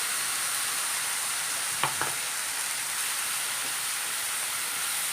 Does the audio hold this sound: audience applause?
no